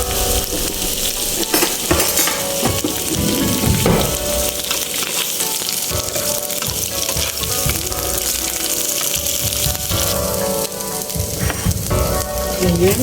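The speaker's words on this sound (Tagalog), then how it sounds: "Ayan, caramelize na po yung ating onion." Sliced onions caramelizing in hot oil in a pan, a steady loud sizzle and crackle of frying running throughout with occasional stirring scrapes.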